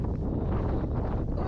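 Steady, loud wind buffeting the microphone on a steep fellside in the Ennerdale fells of the Lake District, a continuous low roar with no pauses.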